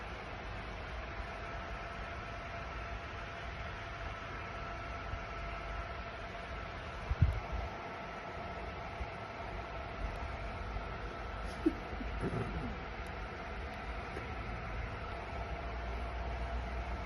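A metro train ride gives a steady low rumble and hum of the carriage in motion, with a couple of faint knocks along the way and no clear voices.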